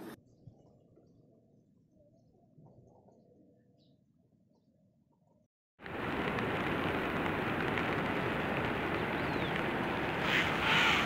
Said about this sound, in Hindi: देर रात से झमाझम बारिश हो रही है